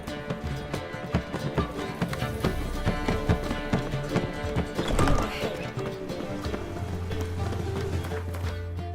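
Roach, the horse in The Witcher 3, gallops with a fast, steady clip-clop of hooves, close and continuous, the rhythm running under game music throughout.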